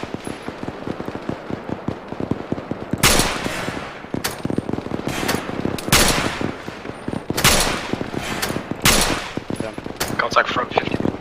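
Incoming gunfire in the Arma 3 military video game, with loud bursts of rapid shots and sharp cracks in clusters, under a steady battle din.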